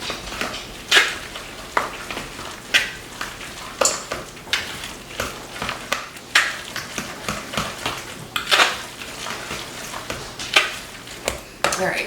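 White cheddar being stirred into a pot of mashed potatoes, with repeated soft scraping and clinking strokes of a spoon against the pot in an uneven rhythm, close and moderately loud.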